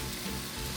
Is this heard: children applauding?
no